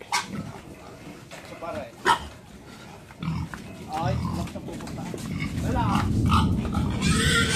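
Fattening pigs in a pen grunt, squeal and snort in repeated overlapping bursts, growing louder and denser toward the end, with a dog barking among them.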